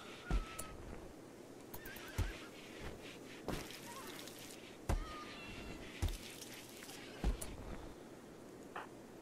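A horse whinnies in the video game Rimworld, several short neighs scattered across the stretch, mixed with sharp percussive clicks and thumps over a steady low background hum.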